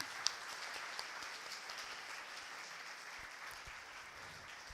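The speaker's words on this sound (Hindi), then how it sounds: "ताली बजाइए, जोरदार ईश्वर से ताली बजाइए।" Steady applause from a church congregation, a continuous wash of clapping that holds at an even level throughout.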